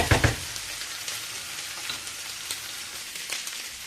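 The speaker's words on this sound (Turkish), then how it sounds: "soğanlarımız, patateslerimiz artık güzelce karıştırılacak" Onions and potatoes fry and sizzle in a pan with a steady hiss, with a few scraping stirs near the start and more stirring strokes at intervals.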